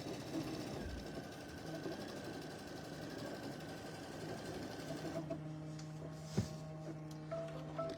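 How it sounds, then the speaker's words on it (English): A Radiance sewing machine stitches a placement line for foam on a bunny garland, a steady mechanical whirr that stops partway, followed by a quieter hum and a brief click. "And we're sewing on the Radiance today, guys."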